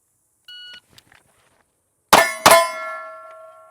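Two rapid shots strike steel targets at a range, each hit a sharp, ringing metallic clang that decays slowly, preceded by a short electronic timer beep.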